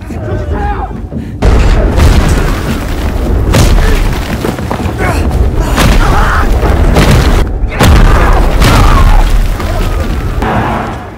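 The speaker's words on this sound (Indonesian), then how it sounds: "Dan langsung saja musuh menghujani mereka dengan meriam yang membabi buta." Heavy booms and rumbling blasts roll in repeatedly, dense and loud, like sustained cannon fire with a continuous low roar between impacts.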